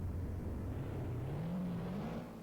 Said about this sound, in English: let's see how this McLaren will sound as he gets in